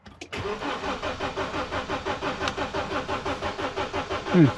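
A JAC T6 pickup with a diesel engine and a fuel system fault cranks over and over without catching, a steady rhythmic starter-motor chug lasting several seconds, close and fairly loud with no speech.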